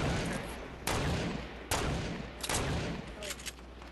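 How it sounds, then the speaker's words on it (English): Heavy gunfire in a video game, several loud sharp volleys landing roughly every second over a constant low rumble, close and forceful. "I hear mad shooting"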